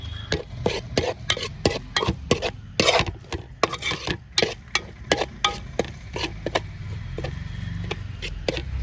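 Shallots and curry leaves are stirred in a pan for a chicken roast, a spoon scraping in a steady run of sharp, close clicks over a low frying hiss, with no talk.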